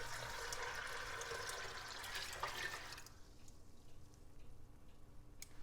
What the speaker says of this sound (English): I have about 8 cups of water from my Berkey water filter in here.